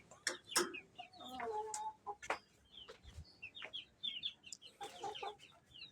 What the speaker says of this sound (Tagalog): Ayaw na maingay na manok.